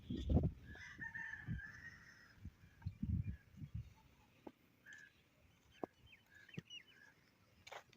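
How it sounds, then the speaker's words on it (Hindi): In a village on a morning, a rooster crows near and clear while smaller birds call and chirp in short bursts further off, over faint background noise. "और खूबसूरत परिंदों की आवाज़ें देखें माशाल्लाह"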